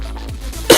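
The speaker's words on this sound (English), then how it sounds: "cough threw me off" A single sharp cough bursts out at the very end of a short, low background hum.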